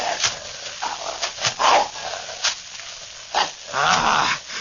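A big dog growls and snarls in an old-time radio drama, rough bursts rising and falling over nearly five seconds, close and fairly loud with brief whimpering breaks.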